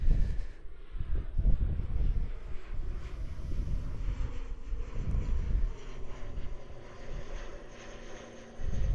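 An ATR turboprop airliner rumbles at Christchurch Airport, a steady low engine drone under gusty wind buffeting the microphone, with no voices.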